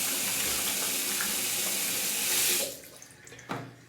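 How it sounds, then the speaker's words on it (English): Cold water gushes steadily from a tap for a couple of seconds to rinse the face after a shave, then cuts off, followed by light splashing and a brief wet slap. "Cold water rinse to the face."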